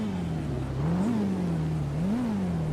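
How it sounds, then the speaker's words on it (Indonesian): A motorcycle engine in a GTA V roleplay game, a steady droning hum whose pitch rises and dips twice in short revs, loud and continuous with no talking. "Oh, ada suaranya sih motor."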